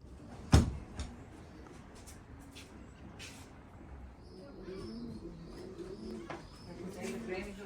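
Pigeons coo softly in a racing-pigeon loft at hatching time, low murmuring calls rising later in the clip alongside a sharp knock and faint background rustle, with quiet talk nearby.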